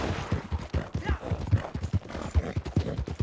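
Horse galloping in the Western video game Red Dead Online, a steady fast rhythm of hoofbeats on dirt with some background game noise and occasional voice, close and fairly loud.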